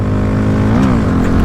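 A motorcycle engine drones loud and close while riding, a steady low exhaust note with a brief rise in pitch midway as the throttle changes.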